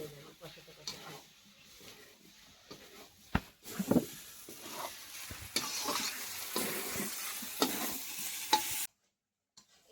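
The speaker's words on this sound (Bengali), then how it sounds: "মশলার সঙ্গে আলুটা একটু কষিয়ে নেব" Potatoes stir-fried with spices in a pan for mutton kosha, a soft sizzle under scraping and stirring strokes, with a few louder clatters and some quiet background voice before cutting to silence.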